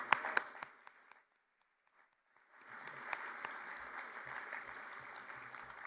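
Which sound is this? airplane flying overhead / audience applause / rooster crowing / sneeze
audience applause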